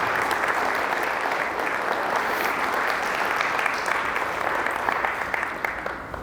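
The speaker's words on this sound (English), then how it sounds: "Would you clap for Leo?" Audience applause for Leo, an outstanding participant at a Joshua Cup keynote, steady and dense from start to finish with no voices over it.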